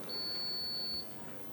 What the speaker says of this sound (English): Team A, can you press your buzzer?